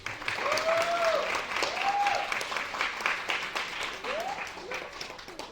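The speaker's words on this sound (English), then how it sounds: "So give yourself a round of applause." Audience applause after a call to applaud during an epilepsy awareness speech, a steady wash of clapping with rising tones that sound like voices or cheers over it, moderately loud and continuous throughout.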